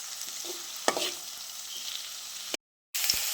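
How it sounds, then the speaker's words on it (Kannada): Green chilies and ginger frying in a pan, a steady hissing sizzle broken by a couple of sharp stirring knocks, then a brief silent gap before the sizzle resumes. "ಹಸಿಮೆಣಸು ಮತ್ತು ಶುಂಠಿ ಹಾಕೊಳ್ಳಿ. ಇದನ್ನೀಗ ಫ್ರೈ ಮಾಡ್ಕೊಳ್ಬೇಕು."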